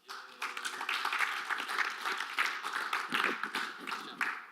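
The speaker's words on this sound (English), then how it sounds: "Let's give them a round of applause" An audience at a tech talk on monitoring Docker and Kubernetes with the Elastic Stack breaks into applause, a moderate, uneven patter of many hands clapping with individual claps standing out, lasting a few seconds.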